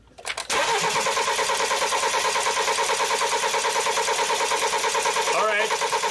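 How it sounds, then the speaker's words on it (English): A BMW X3 engine cranks for several seconds without catching, a steady rapid rhythmic chugging of the starter that holds loud and even and never settles into a running idle. "So we're gonna have Abraham crank it one more time for us."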